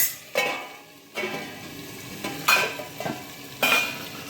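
Okra and potato sizzle softly in a pan on a low flame while a spoon stirs and scrapes at intervals, close and fairly quiet, with no speech.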